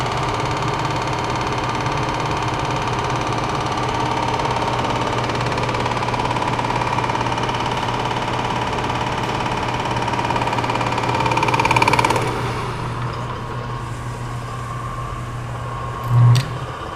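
A Monarch CK12 lathe running in reverse with its clutch engaged gives a steady, even mechanical drone with a low hum, holding constant for many seconds before easing slightly, followed by one brief thump near the end.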